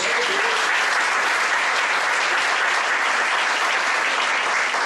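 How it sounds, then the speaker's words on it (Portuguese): A church congregation claps steadily and loudly in a dense, continuous round of applause, with no voices rising above it. "Você pode dar uma salva de palmas por isso?"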